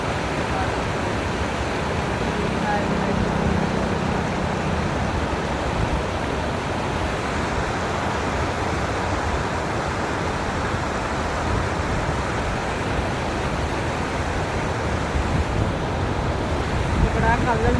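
Water flows outdoors as a constant broad rushing wash, fairly loud and close, with steady wind-like texture throughout and no clear talk over it.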